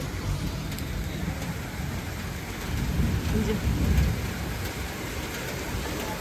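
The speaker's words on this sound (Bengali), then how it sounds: "মেঘ ডাকছে" Thunder rumbles during a monsoon storm outdoors, over steady falling rain. The low, rolling roar swells to a louder peak midway, then settles back to a distant grumble under the rain.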